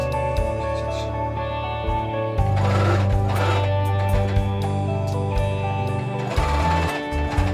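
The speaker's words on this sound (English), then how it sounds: "Slam the pressure foot down. Sew some lines there. Back stitch." A sewing machine stitching seams on a Renaissance peasant tunic, with a steady close whirring hum that surges and pauses briefly as the stitching runs and backstitches.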